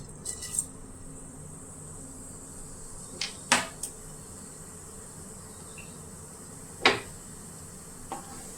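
Cumin seeds sizzle in hot ghee and sunflower oil as a faint, steady frying hiss, broken by a few sharp metallic clinks of a spoon against the pan.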